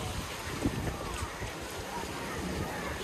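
Strong wind roars steadily across the microphone, a dense broadband rush by the sea at Novy Svet, Crimea, with a faint voice buried underneath.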